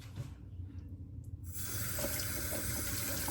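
Water from a tap pours into a sink while wild mushrooms are washed, starting softer and then gushing louder and steadier for the second half, close and alone.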